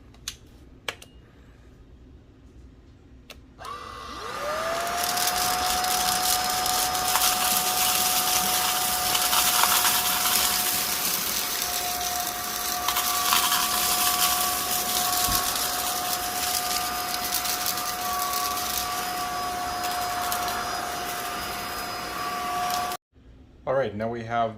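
A Zoker A10 cordless vacuum cleaner picks up debris with a steady loud motor whine that holds for about twenty seconds and then cuts off abruptly. Faint clicks and handling sounds come before and after.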